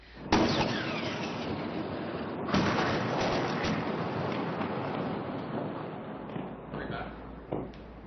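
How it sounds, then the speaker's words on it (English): Artillery shells land in Gaza at night as a continuous heavy rumbling roar, broken by sharper booming impacts near the start, midway and toward the end. "we are hearing artillery shells constantly landing in Gaza tonight"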